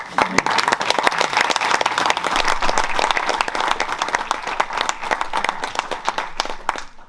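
Audience applause at a volunteer charity fundraising event, a steady dense patter of many hands clapping for about seven seconds, fairly loud and close, fading out at the very end.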